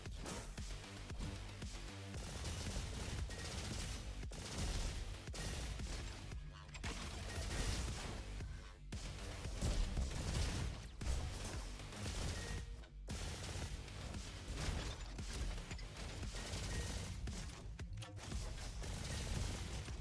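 Rapid bursts of ultra rifle gunfire in the shooter game Roboquest, dense automatic fire repeating in quick volleys with short gaps, loud and continuous across the scene.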